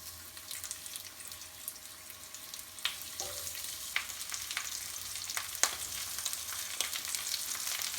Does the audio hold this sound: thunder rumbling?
no